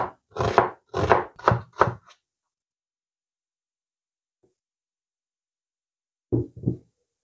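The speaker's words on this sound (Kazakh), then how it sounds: "Пиязды да сақтап тураймыз" A knife chops onion on a board in a quick run of five or six close, crisp strokes, then stops; after a long silence, two more chops are heard.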